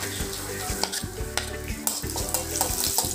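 Almonds and raisins frying in a tablespoon of ghee for a Kerala banana snack, with a continuous close sizzle under repeated clinks and scrapes of a spoon stirring against the pan.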